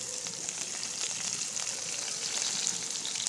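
Garlic sizzles steadily in a hot pan, a continuous bright crackling hiss that holds at an even level throughout with no one talking.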